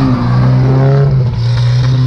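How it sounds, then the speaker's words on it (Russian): A Moskvich 412 pulls away on snow, its engine loud and close with a steady droning hum that climbs slightly as the revs build. "Мне кажется, москвич трогается увереннее на этой резине"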